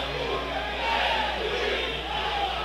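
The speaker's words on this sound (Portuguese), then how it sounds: "Torcida do Souza faz aquela saudação" Sousa football fans at the rainy Governador Antônio Mariz stadium chanting a salute to the referee during a Paraíba championship match, a steady, dense roar of many distant voices with a faint rising and falling chant running through it.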